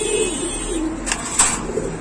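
Pigeons coo softly and steadily inside a pigeon shop, with a couple of brief sharp clicks.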